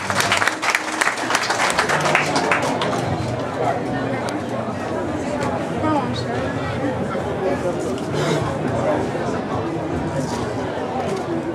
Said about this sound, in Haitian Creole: On applaudit Exantus Jean-Baptiste.